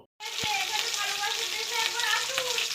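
Bhetki fish fries in hot oil in a home kitchen, giving a steady, close crackling sizzle right after a sharp tap at the start, continuing evenly throughout.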